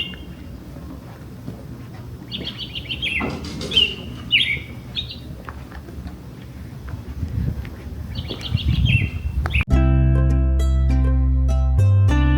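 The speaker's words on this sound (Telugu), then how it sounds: "ఇందాక నుంచి ఇక్కడ ఒక బర్డ్ భలే సౌండ్ చేస్తుంది." A bird sings in bright, repeated chirping phrases outdoors beside the shops of the small village of Harrison Hot Springs, clear over light background ambience, before music abruptly takes over near the end.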